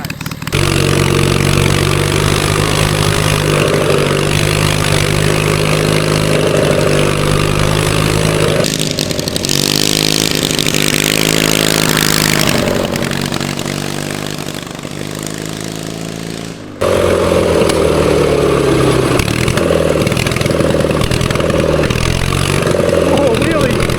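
A 450cc twin-cylinder engine on a push lawn mower runs loud and close, revving up and down with a rough clattering drone, briefly easing off before surging again, with people talking over it.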